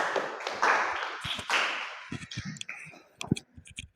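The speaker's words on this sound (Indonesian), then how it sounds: "Beri tepuk tangan untuk kelompok 3." A classroom group claps for group 3: a loose burst of hand claps that starts dense and then thins into scattered individual claps and taps, fairly near and moderately quiet.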